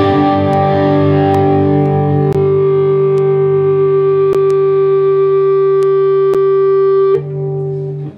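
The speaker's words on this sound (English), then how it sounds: "you get this really cool sound, which we call feedback" An electric guitar held near its amp howls with a loud, sustained feedback tone, a steady ringing drone that holds for about seven seconds before it drops off, with faint clicks along the way.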